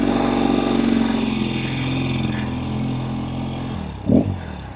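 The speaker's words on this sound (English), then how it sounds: "Get the motor warmed up a little bit." A 1964 Triumph Bonneville T120 motorcycle idles up close, its steady engine note loud and even, then a brief rev swells near the end.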